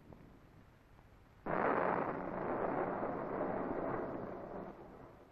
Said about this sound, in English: Listen, that sounded like thunder.